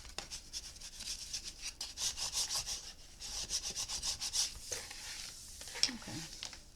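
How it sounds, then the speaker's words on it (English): Paper being rubbed by hand to work glue into an art memory book, a soft, close, continuous scraping and brushing in repeated strokes with brief pauses and no talking. "Let's really rub that glue in."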